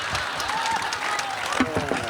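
Brief audience applause at a panel discussion with film actors, a dense patter of clapping with voices faintly mixed in.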